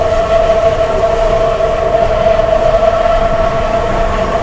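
A Mexico City metro train runs steadily with a loud, constant rumble and a sustained tonal whine from the wheels and motors, no voices heard.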